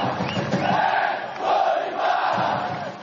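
São Paulo football supporters in a stadium cheer and chant together in encouragement, a dense, steady roar of many voices with swelling chants rising and falling.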